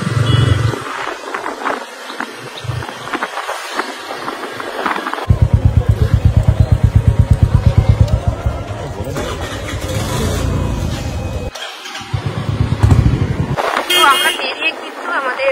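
A Royal Enfield Bullet motorcycle engine thumps with a rapid, even low pulse that rises for a few seconds, then settles into a steadier idle and rev. People talk over it at times.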